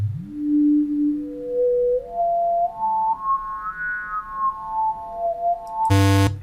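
Synth bass note switched from saw to square wave, a steady sustained tone with stepping pitch sweeps rising and falling, alone and fairly loud, ending in a brief louder burst.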